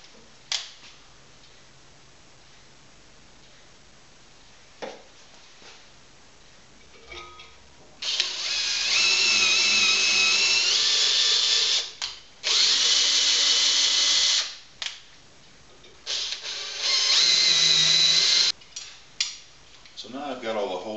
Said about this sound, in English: I'm going to tap out all these holes.